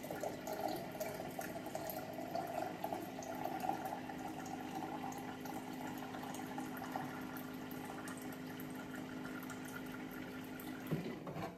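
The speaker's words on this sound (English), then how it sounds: "when I drain my machine, there should be two pitchers of water as well." Water drains steadily from a home water machine into a pitcher, a continuous trickling and filling sound with a faint motor-like hum underneath that stops abruptly near the end, heard alone without talk.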